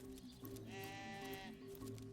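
A sheep bleats once in the fantasy role-playing game Divinity: Original Sin, a clear wavering cry at moderate level over quiet background game ambience.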